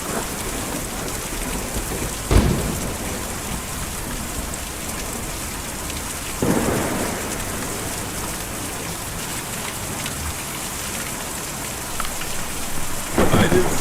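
Steady heavy rain pours in the Kentucky Route Zero video game, with several loud thunder cracks breaking through, one near the start, one midway and another at the end.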